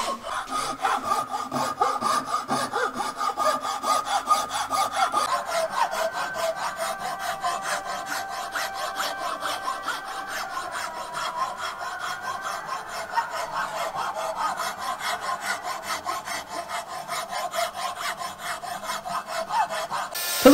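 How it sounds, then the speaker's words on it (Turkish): A die grinder puts the final touches on a steel knife made from plate, giving a steady, continuous abrasive rasping and rubbing that runs close and loud for the whole stretch, shifting slightly in tone partway through. "Kalıp taşlama makinesiyle son rötuşları yapıyoruz."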